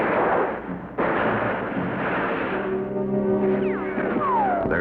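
Heavy WWII battle gunfire from a documentary on the Marines at Rabaul, loud booming shots and blasts that merge into a rumbling barrage, with tonal whines and swoops rising near the end.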